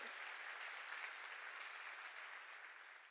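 Church congregation applauding together after a sermon point, a steady wash of many hands clapping that holds evenly and tapers slightly at the end, heard from a distance at low level with no voices over it.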